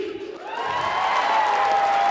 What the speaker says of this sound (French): Des applaudissements pour Papa Chota